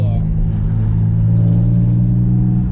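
Loud car engine with a leaking exhaust, revving and droning close by in a steady deep rumble that swells slightly across the moment, filling the cabin.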